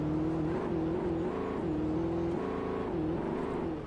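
A car engine in the video game Alan Wake drives off-road, a steady loud drone that rises and falls in pitch as it revs, continuous throughout with no talking.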